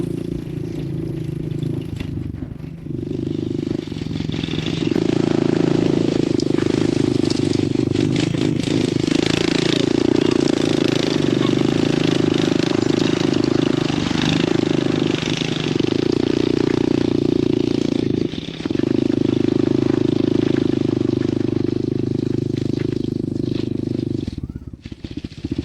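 A small KLX110 or TTR110 dirt bike engine holds a steady, loud drone throughout, with a brief dip near the end and engine braking as the bike coasts.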